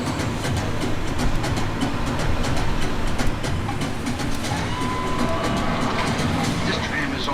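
A Universal Studios studio-tour tram rolls along at night in a steady rumbling drone with faint rhythmic clatter, loud and continuous, with a voice murmuring underneath.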